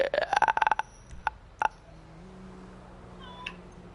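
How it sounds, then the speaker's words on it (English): A cat meows several times in quick succession near the start, with a couple of shorter cries after, then a quiet background. "I heard that cat."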